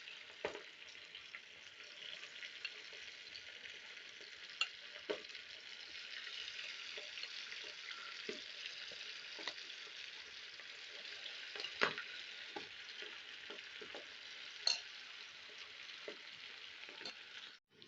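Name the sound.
beef boti pieces frying in hot oil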